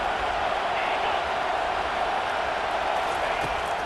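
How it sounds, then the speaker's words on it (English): Stadium crowd noise in EA Sports College Football 25, a steady roaring wash of fans in a football stadium video game, loud and unbroken throughout with no distinct cheers. "It is getting loud as this crowd tries to help its defense."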